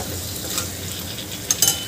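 Finely chopped raw papaya pieces stirred in a pan, a steady faint sizzle with a couple of brief scraping strokes near the end, no voices.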